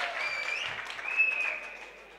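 Audience applause at an all-India mushaira poetry gathering in Malegaon: a dense, steady wash of clapping from a large crowd that swells briefly, then fades.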